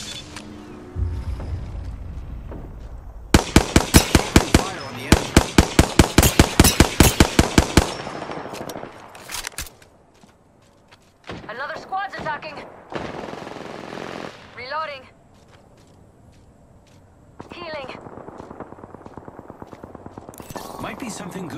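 Bursts of rapid automatic gunfire in a battle royale video game, a dense volley of shots followed by scattered single cracks and short bursts, loud and close, with game voice callouts and mechanical sounds in between.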